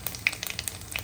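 Whole cumin seeds sizzle in hot refined oil, a soft crackle of tiny pops and hiss, faint and close, with no voices.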